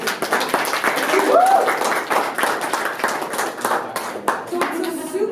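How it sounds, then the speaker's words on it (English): Audience applause for a film panel in a hall, steady clapping from many hands for a few seconds with voices faintly mixed in. "so round of applause for these"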